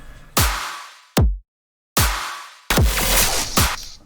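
Four sharp, punchy dubstep clap samples, each ending in a short decaying tail, spaced apart with silent gaps between them and no talking.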